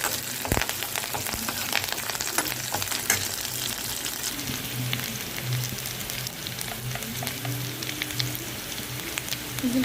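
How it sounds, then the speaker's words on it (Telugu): Curry leaves crackle and sizzle in hot oil for a tomato charu, a dense close spatter with sharp pops scattered through it, steady for the whole stretch with no talking. "కొంచెం కరివేపాకు వేసుకోండి"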